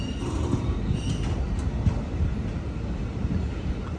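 The Chemmozhi Express rumbles along from inside a sleeper class coach, a steady, dense roar of wheels and carriage, with faint metallic creaks and squeals over it. No voices.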